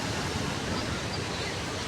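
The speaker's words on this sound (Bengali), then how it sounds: "বিরাট ঢেউ পানি" Big sea waves at Digha beach wash in as a steady, loud, broadband roar of surf that stays even and unbroken throughout, with no distinct breaks between swells.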